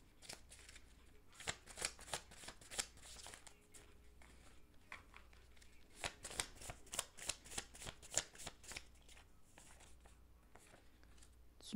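Tarot cards are shuffled and drawn by hand, producing soft, repeated riffling and flicking bursts in an uneven rhythm, close by and quiet.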